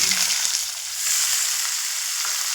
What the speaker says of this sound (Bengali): এবার আমি এখানে দিয়ে দেব একটা বড় সাইজের পেঁয়াজ কুচি